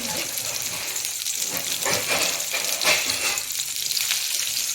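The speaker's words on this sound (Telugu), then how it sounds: "ఇవైతే ఫ్రై అవుతున్నాయండి" Uggani, a puffed-rice dish, frying in plenty of oil in a covered pan makes a loud, dense, continuous sizzle and spatter that swells and eases, with faint background noise and no clear talk.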